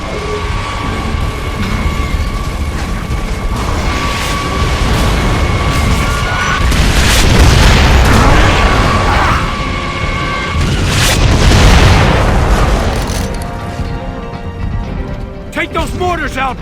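Mortar explosions in the Gears of War 3 Raam's Shadow campaign: deep, heavy booms swell around the middle and again near the end, layered over dense battle noise and voices.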